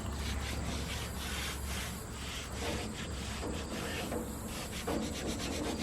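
Primer being rubbed into a work platform surface, a continuous scratchy rubbing and scuffing with rhythmic strokes, close and moderately quiet.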